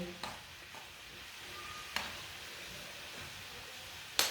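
Salted, oiled water boiling in a pot is stirred, giving a steady bubbling hiss with a few soft clinks of a spoon against the pot.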